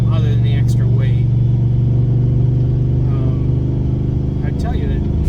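Factory Five XTF truck towing a trailer, a steady loud low engine drone and road rumble running throughout with slight swells, under continuous nearby talk.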